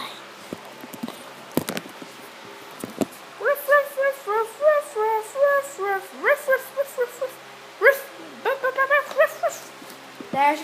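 A dog whimpers and yips in a long series of high, whiny cries, with a few sharp bark-like bursts and knocks early on, close and fairly loud.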